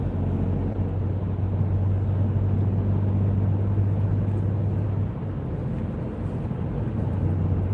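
A car engine drones on a night drive through Greater Manchester, a steady, loud, low-pitched hum with road rumble that holds constant for several seconds before easing slightly and picking back up.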